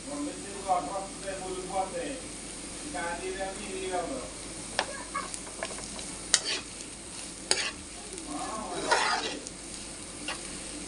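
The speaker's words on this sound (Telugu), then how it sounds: "దొండకాయ ఫ్రై ఆల్మోస్ట్ కుక్ అయిపోయింది" Ivy gourd (tindora) frying in a pan, with loud close sizzling and scraping stirs in uneven bursts while a person talks over the cooking.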